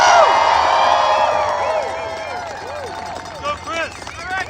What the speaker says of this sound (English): So you're going to want to give her a major round of applause.